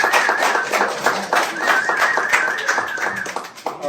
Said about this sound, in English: So round of applause, folks, please.